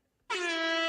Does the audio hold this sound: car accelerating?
no